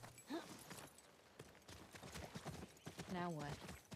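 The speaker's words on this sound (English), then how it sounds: "There's a horse." Horse hooves clip-clop in The Last of Us Part II, a run of light rhythmic knocks mixed with game sounds and talk, with a short whinny-like call near the end.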